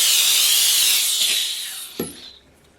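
A 20-year-old Scunci Model S steamer sprays steam onto a toilet seat, a loud steady hiss that fades out over a couple of seconds, with a brief thump near the end.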